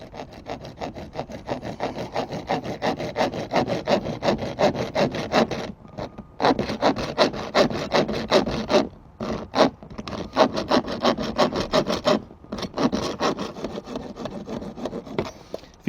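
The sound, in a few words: hacksaw with coarse blade cutting plastic tube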